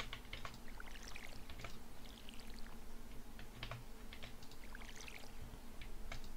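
Crops are watered in the farming video game Stardew Valley with a soft, crackly, pouring splash that repeats in quick bursts over a steady low hum, with no talking.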